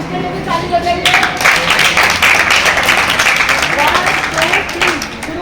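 An audience at a Rajasthan gathering claps in a steady, dense burst of applause that starts about a second in and carries on throughout, with voices mixed in beneath.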